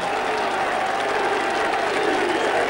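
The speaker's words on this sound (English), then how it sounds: "the crowd chant easy" Rugby league crowd at a Workington match cheering and applauding a try, a dense, steady roar of many voices and clapping filling the whole stretch without a break.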